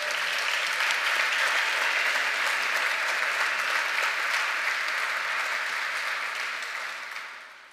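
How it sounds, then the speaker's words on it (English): Sustained, even applause from a large audience at a software conference keynote in Brooklyn, a thick wash of clapping that holds steady for several seconds before tapering off at the end. "can we get an applause for these people?"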